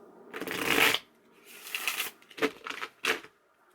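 A brand new deck of playing cards being shuffled up close, several riffling bursts: one long riffle, then a second, followed by two short snaps, with no talking.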